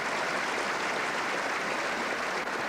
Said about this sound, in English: Philip Chok applauding a superb shot by David Bryant.